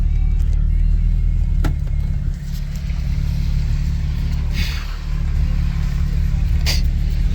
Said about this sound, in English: A lot of cars are coming this way.